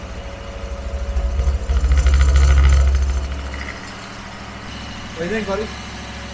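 A Dodge 318 V8 engine idling on a test setup outside the car, a steady low rumble that swells louder for a moment and then settles, with people talking over it.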